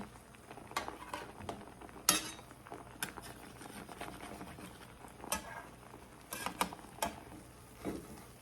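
A metal utensil scrapes and taps against a pan while loosening cauliflower steaks topped with Parmesan, giving sparse, close clinks and scrapes with quiet gaps between them.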